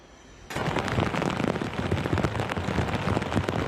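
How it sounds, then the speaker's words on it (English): Heavy rain pours down during severe flooding in a Pennsylvania borough, a dense, crackling roar with spattering drops, starting abruptly and continuing loud and close throughout. "Lots of rain, lots of water."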